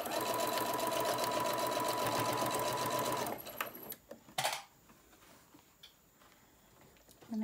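Sewing machine running a back stitch on a lunch tote bag, a fast even whirring clatter for about three seconds that stops abruptly, followed by quieter clicks and handling noises.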